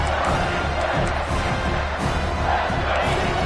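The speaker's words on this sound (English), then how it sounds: "the crowd really making some noise now, trying to help out this defense" A large college football stadium crowd roars steadily and loudly, a dense wall of cheering and shouting that never lets up.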